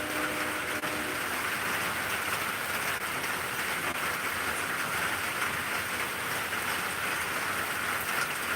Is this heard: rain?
yes